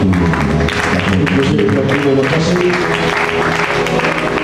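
A church congregation applauds loudly and steadily throughout, with voices and music mixed into the clapping.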